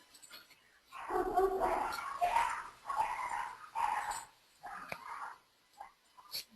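A dog gives a series of about five short, close barks and yelps in uneven bursts, followed by a couple of brief, fainter yips.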